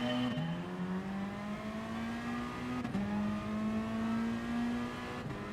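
A race car engine in Gran Turismo Sport revs and climbs through gears, its steady tone rising then dropping sharply at each shift, heard twice, fairly quiet and continuous without talk.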